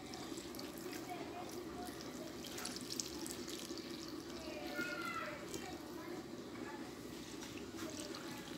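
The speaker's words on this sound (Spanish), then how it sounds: "Agregamos el litro de leche al pan." A litre of milk is poured onto bread for a homemade bread pudding, making a soft continuous liquid pour and trickle at close range, quiet and steady, with a voice speaking faintly.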